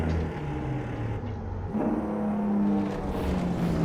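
Heavy truck engine pulling steadily through its gears, a continuous loud rumble and whir with a brief dip in revs partway through as a shift occurs, then building again.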